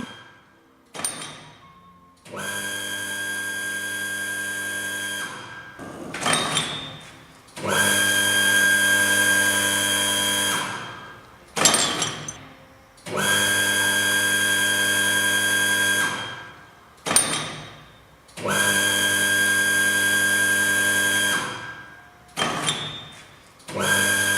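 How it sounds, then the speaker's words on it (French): Bottling production line with a conveyor belt carrying empty bottles to be filled, sounding as repeated whirring motor runs of several seconds each separated by brief clunks and pauses, mechanical and fairly loud. "le tapis roulant démarre avec les bouteilles vides et remplir par le produit fini"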